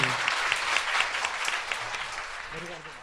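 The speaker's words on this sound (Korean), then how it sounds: "박수 한번 주세요." Audience clapping during a talk-show recording, a steady crowd of hands clapping at moderate loudness with a voice briefly speaking over it.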